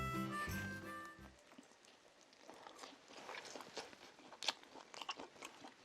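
Someone bites and chews pizza, soft crunchy chewing and mouth noises up close and quiet after a brief burst of other sound at the start.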